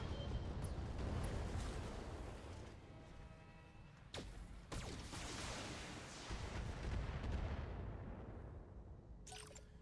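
Mech weapons in the MechWarrior video game fire at several targets, including a light mech and an assault turret: a dense, continuous barrage of booming shots and explosions that rumble throughout, with sharp cracks standing out near the end.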